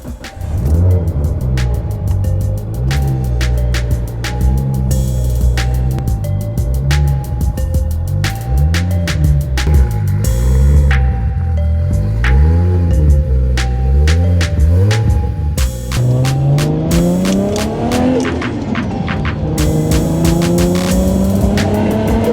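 A Nissan Skyline RB engine is started and left running to warm up. It idles loud and close, its pitch rising and falling with repeated revs, and ticking clicks sound throughout.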